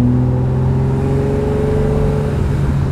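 A 1968 Ferrari 365 GT 2+2 'Queen Mary' with its V12 engine, heard from inside the car as a loud, steady, throaty drone with strong low harmonics that swell slightly. No voices.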